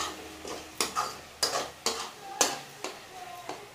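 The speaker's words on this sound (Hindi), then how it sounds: "अब इन सबको कर लेंगे मिक्स और अच्छे से इन्हें पका लेंगे टमाटर एकदम सॉफ्ट होने तक।" A spoon stirs tomatoes with coriander and turmeric powder in a hot pan, giving regular scraping strokes about every half second over a soft sizzle, close up with no talking.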